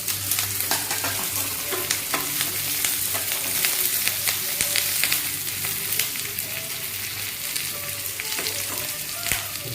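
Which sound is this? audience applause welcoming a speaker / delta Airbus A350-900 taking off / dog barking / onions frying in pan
onions frying in pan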